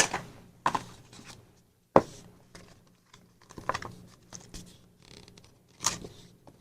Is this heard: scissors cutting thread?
yes